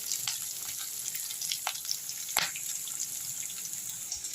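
Onions sautéing in a pan for tomato sambar, a steady moderate sizzle with scattered crackles and one sharper stirring clack in the middle.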